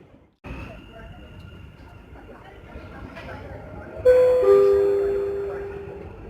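A Dubai Metro train hums at a station platform, a steady rumble joined by a tonal chime and rising electric whine as the doors and motors engage, with a public-address voice mixed in.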